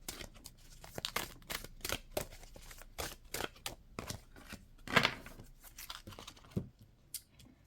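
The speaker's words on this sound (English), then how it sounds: "These cards are so big. They're hard for my little hands to shuffle." Oversized cards being shuffled by hand, a series of quiet, irregular riffling and slapping bursts with short pauses between.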